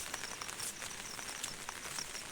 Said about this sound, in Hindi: बराबर बारिश लगी हुई है।